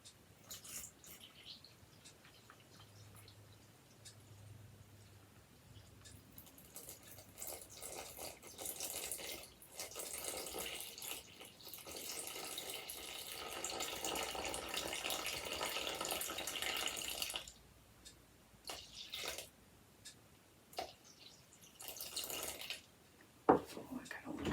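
Tap water running into a container on a kitchen scale to measure out water for sourdough sandwich bread dough, a steady broadband splash lasting several seconds, followed by quieter clinks and handling noises.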